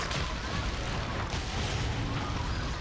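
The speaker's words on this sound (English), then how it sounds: "explosions everywhere." Explosions in the video game Dragon's Dogma: Dark Arisen, a dense, loud rumbling barrage of booms and blasts rolling continuously with no pause, heavy low-end thunder filling the whole stretch.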